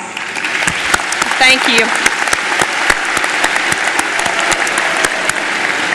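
Sustained applause from a graduation ceremony audience fills the hall steadily from start to finish, with a voice briefly speaking over the clapping partway through.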